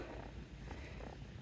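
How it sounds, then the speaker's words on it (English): Steady low purring from kittens close by, a soft continuous rumble with no other sounds over it. "I don't know if you can hear them purring on the video, but they purr so loud."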